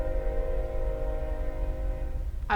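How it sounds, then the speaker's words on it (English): A passing train gives a steady, loud rumbling drone with a sustained tonal horn-like hum, ending in a brief sharper burst; no voices. "train's going by"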